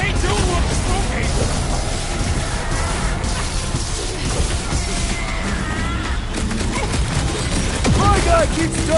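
Rapid game gunfire rattles in bursts through a dense, loud combat mix in Marvel's Guardians of the Galaxy (2021), with voices speaking over it.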